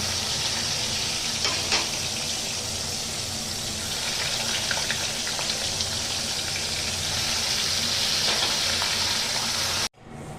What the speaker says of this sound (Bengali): এখন আমি মাছটাকে একটু চপিস করে সাঁতলে নেব